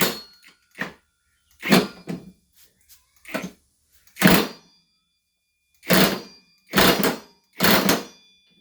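Wrench work on a bolt of a John Deere L130 riding mower, heard as a series of short separate metallic clicks and clanks in bursts, close by, with no talking.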